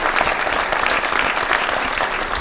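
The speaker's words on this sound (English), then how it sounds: "So can you give your new state representative a big round of applause?" A crowd at a Mayor's Night Out gathering claps for a new state representative, giving steady, loud, close applause that holds without a break throughout.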